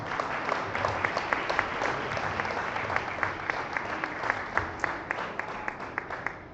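A church congregation claps steadily for several seconds, dense sustained applause with a few sharper individual claps standing out, no voices on top.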